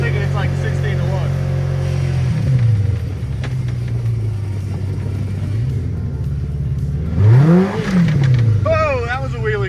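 A homemade golf cart engine drones and rumbles as the cart drives fast, with pitch swinging up and down through acceleration and a sharp rev surge near the end, people talking over it.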